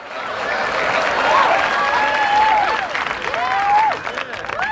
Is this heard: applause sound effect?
yes